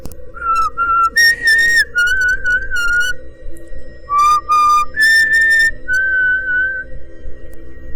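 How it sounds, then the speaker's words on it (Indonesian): A man whistles a slow, eerie tune in clear, close phrases of short and held notes separated by brief gaps, over a low steady background hum. "Sesaat, lirik lagu tersebut berganti dengan siul."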